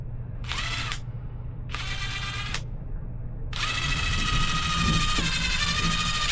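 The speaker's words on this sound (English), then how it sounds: "I'm going to drill each side separately, and then I'm going to go all the way through." A drill bores holes through a Vans T2 necklace piece in three bursts, two short runs of about a second each and then a longer sustained one, loud and close over a low steady hum.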